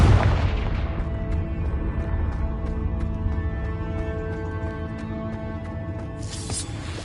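Confringo, an explosive spell in Hogwarts Legacy, going off as a loud booming blast that settles into a sustained rumbling, ringing tail, with another burst near the end.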